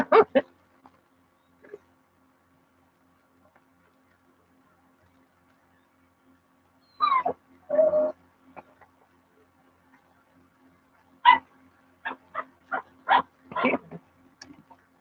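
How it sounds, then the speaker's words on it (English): Puppies yip, whimper and bark in short scattered bursts, with long quiet gaps between clusters of small high cries. "Puppies are awake if y'all can hear them."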